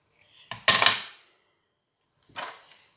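Paper being cut for a scrapbook album page layout, heard as two short, crisp bursts of cutting about two seconds apart, fairly close and with no talking.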